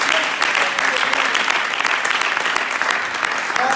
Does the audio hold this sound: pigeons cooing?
no